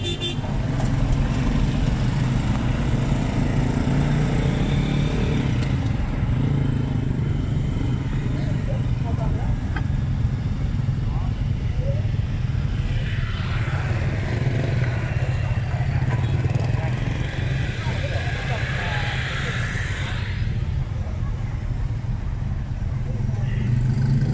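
Busy motorcycle street traffic in Hanoi: a steady, dense engine roar with scattered horn toots throughout, while voices talk over the din.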